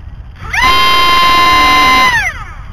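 A small electric motor of a micro RC model jet plane whines up sharply to a high steady pitch, holds loudly for about a second and a half, then winds back down.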